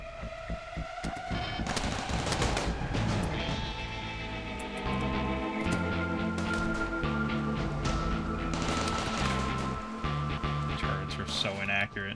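Automated turrets firing in the colony game Rimworld, a sustained stream of gunfire bursts mixed with game music and effects, loud and continuous throughout, with some talk over it.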